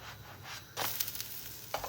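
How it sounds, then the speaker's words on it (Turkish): Brief close sizzle of akıtma batter frying in a pan, with a burst of hissing crackle partway through. "Bir de bir tarafını kızartalım."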